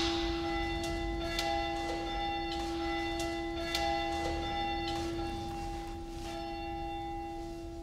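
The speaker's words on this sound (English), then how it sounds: "I wish for the bell to go on for a long time" A church bell rings steadily, its strokes repeating with long ringing overtones that overlap and sustain throughout, no voices present.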